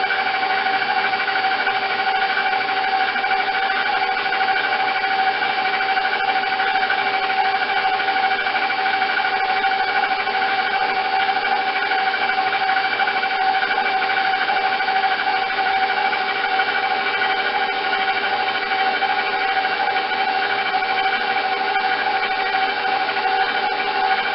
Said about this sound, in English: So I'm going to slow the mixer down a little bit because it's going to start getting sloshing around a lot.